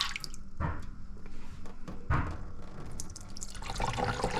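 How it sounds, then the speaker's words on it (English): Sugar cane syrup is poured into gallon jugs, giving soft intermittent splashing and dripping with a few wet glugs, quiet and close by. "Now I doubled it up and putting it in gallon jugs."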